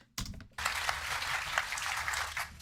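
Scattered, loose clapping from a small crowd of a couple dozen people at a town hall, starting abruptly after a brief pause and continuing as an uneven patter.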